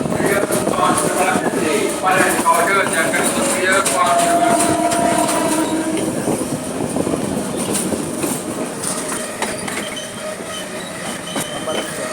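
A train pulls into Babbala station in Sri Lanka with a loud, close rumble of wagons, clattering wheels and a brief metallic squeal, while people talk faintly underneath.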